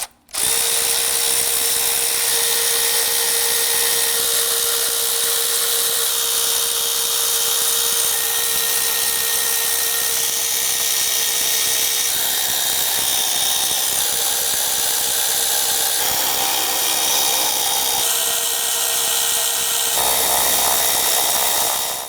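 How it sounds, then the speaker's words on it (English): A power tool runs almost continuously as a 10mm socket loosens the rear valve cover bolts on a 2010-2019 Ford Taurus 3.5L V6, a steady whir with slight changes in pitch and a sudden start. "I'm going to use a 10mm socket to go ahead, loosen and remove these here."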